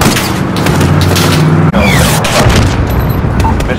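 A flashbang grenade blast in Call of Duty: Modern Warfare gameplay gives a heavy, booming thud with a sharp break midway, thick low rumble and scattered gunfire throughout, loud and close.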